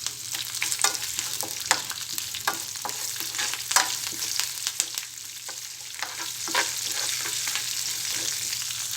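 Dried red chillies, curry leaves and tempering seeds hit hot oil in a pan for a bottle gourd yogurt chutney, giving a steady, close crackling sizzle dotted with sharp pops throughout, with no voices.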